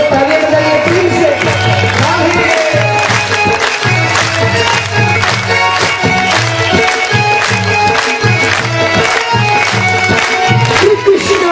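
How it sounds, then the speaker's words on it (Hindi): An audience at a Hindu katha claps steadily along with loud devotional music, the rhythmic claps blending into the dense, continuous sound of singing and instruments. "ये हो तालियां बजाइए प्रेम से।"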